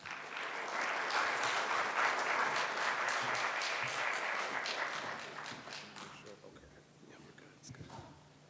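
Audience applause welcoming a speaker to a fashion research lecture, sustained loud clapping that builds quickly, holds for several seconds, then thins out into scattered claps and fades.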